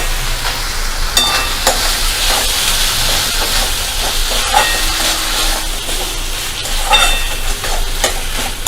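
Boiled mixed dal is stirred into spices in a hot pan, sizzling and hissing steadily with scraping stirs and occasional clinks of the spoon against the metal, close and loud with no talk.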